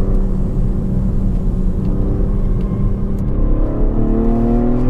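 A BMW M340 engine accelerates hard, its revs climbing steadily in a loud, continuous rising whir and rumble heard from inside the car, with no talking.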